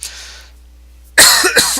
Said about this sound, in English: I've been coughing so much because I've been talking